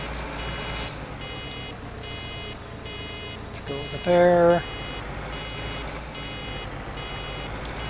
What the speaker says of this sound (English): I hope we're coming up to that beeping noise.